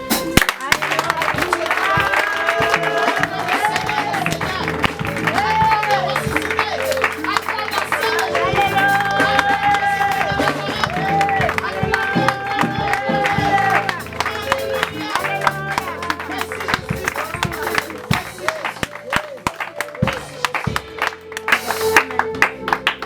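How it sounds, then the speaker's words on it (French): A church congregation applauding and cheering during worship, clapping and shouts mixed with music and voices in a loud, busy, sustained swell lasting the whole stretch. "Est-ce que tu peux acclamer le Seigneur?"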